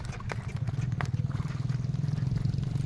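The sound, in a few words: horse trotting and cantering during riding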